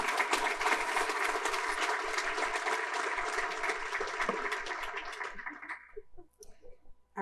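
Crowd at a United Way community event applauds its longtime sponsors, dense sustained clapping that holds steady for several seconds, then thins out and fades to a few scattered claps at the end.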